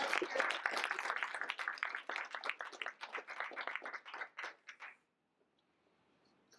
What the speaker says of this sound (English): So everybody, please give a hand of applause to Ava.